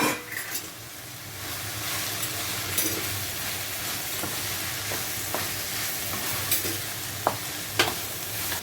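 Chopped capsicum, coriander leaves and masala with ginger-garlic paste sautéing in a hot pan, a steady close sizzle broken by occasional scraping stirs and light clinks of the spoon against the pan.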